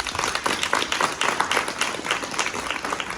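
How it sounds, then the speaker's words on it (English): An audience at a One Hart One Hill Foundation presentation in Buff Bay, Portland, gives a round of applause: dense, steady clapping from many hands in a room, with no speech over it. "Let's just give a round of applause again to Hart Hill"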